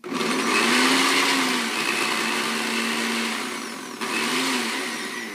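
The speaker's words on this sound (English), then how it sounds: "And let me blend this a tiny bit." A blender making a post-workout shake whirs loudly and continuously up close, its motor pitch wavering slightly and briefly cutting out before spinning again.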